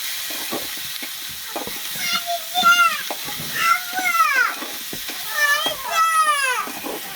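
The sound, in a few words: garlic, cumin paste, chopped onion and tomato sizzling in pan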